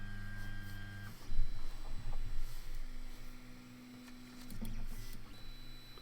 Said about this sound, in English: So let's home the printer.